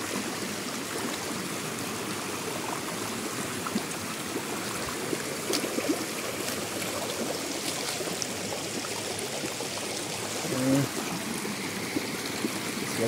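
Water of a forest stream rushing and trickling steadily while someone wades through it on a hike toward Walchensee in Bavaria, a continuous close wash with a person speaking at times.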